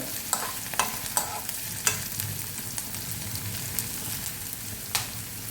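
Green chilies, ginger and garlic stir-frying in a pan for a baingan bharta-style brinjal chutney, a steady low sizzle broken by sharp scraping clicks of a spoon stirring every second or so, close and moderately quiet.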